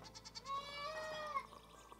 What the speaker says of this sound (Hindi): देख बकरी बोले